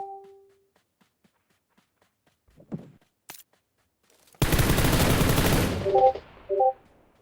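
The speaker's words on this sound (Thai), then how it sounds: "เสียงปืนจากไหนวะ" Automatic gunfire in the battle royale game PUBG Lite: a few faint clicks, then a loud sustained burst of rapid shots lasting about a second and a half, followed by brief tonal game sounds and a second short burst.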